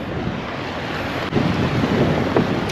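Waves surge and break against rocks in a shallow section of Hayes Inlet, heard from a small boat as a steady, loud roar of surf mixed with wind buffeting the microphone, no voices.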